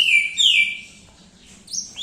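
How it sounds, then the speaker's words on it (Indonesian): A male kinoi bird sings a bright chirping call that sweeps downward, followed by a brief pause and then a few quick high chirps, close and clear with no talk. "Ini beneran kinoi ini kinoi jantan"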